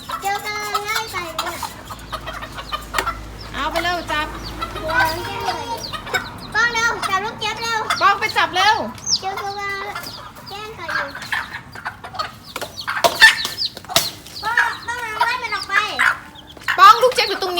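Baby chicks peeping and clucking in bursts, with some wing flapping as they are chased and caught by hand, close and agitated, while people talk and call out throughout.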